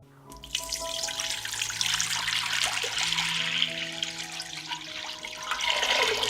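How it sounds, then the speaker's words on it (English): Water pours from a tap into a pot for pepper pickling brine, a close rushing stream with ringing tones that shift in pitch as the pot fills. "I pour 2 liters of water into the pot."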